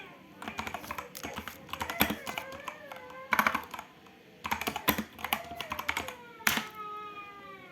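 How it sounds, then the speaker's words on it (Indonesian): A computer keyboard typing a terminal command in quick clustered keystrokes, pausing between bursts, fairly close and moderately quiet, with faint background tones. "Kita bisa mengeceknya terlebih dahulu dengan mengetikkan perintah sudo systemctl status."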